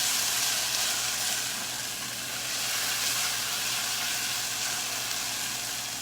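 Steady, even sizzle of onions browning in a pan over lowered heat, a continuous frying hiss with no breaks and no voices.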